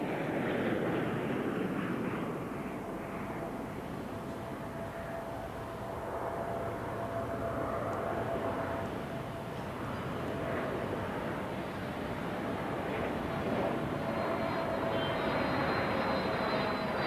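A de Havilland Comet jet airliner flies over Heathrow during an airport anniversary flypast, a loud, sustained engine roar that swells and holds steady throughout with no voices.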